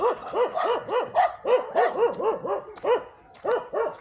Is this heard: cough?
no